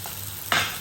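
Mushrooms and corn hit a hot pan with onion, garlic and green chili, giving a quiet stir followed by a sudden burst of close sizzling.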